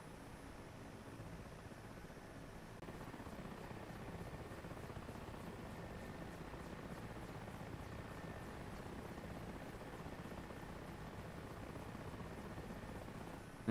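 A Mi-8 helicopter in the DCS combat flight game drones on in a steady, faint rotor and turbine wash, a continuous low rumble with no voices over it.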